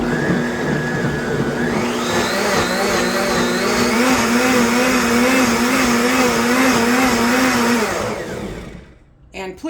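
A blender runs loud and close, its motor whining and shifting pitch as it churns hot roasted tomato soup, then winds down and stops near the end.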